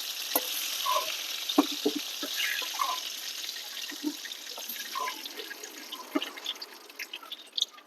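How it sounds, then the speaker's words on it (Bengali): Potato pieces fry in hot oil in a kadai wok with a little salt, giving a soft, continuous sizzle scattered with small pops and crackles and no talking. "কড়াই গরম হয়ে গেছে, দিয়ে দেবো আলুটাকে ভেজে নেব"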